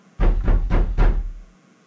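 Four firm, evenly spaced knocks on a door, loud and close, with a short ringing decay after the last one.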